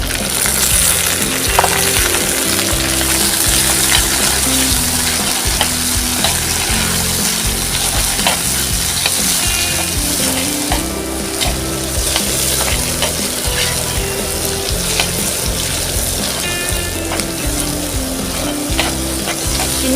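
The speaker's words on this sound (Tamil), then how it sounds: "சின்ன வெங்காயம் நல்லா வதங்கணும், அப்பதான் டேஸ்ட்டு நல்லா இருக்கும்." Shallots sizzle steadily in hot oil for a spicy village-style quail fry, with frequent scraping and stirring in the pan. The sound is loud, close and continuous, with no talking.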